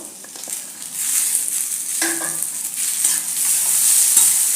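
Tomatoes sauté in hot oil for chole masala, a bright, loud continuous sizzle with a few stirring scrapes and clinks, heard up close without speech.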